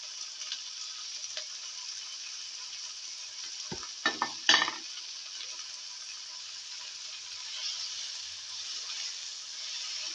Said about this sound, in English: The okra pieces, thoroughly saute and mix.